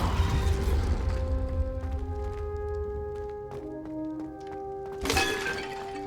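A Confringo spell blast in Hogwarts Legacy lands as a sharp cracking burst with a bright shattering tail and ringing tones, alongside other magical impacts and a lingering rumble.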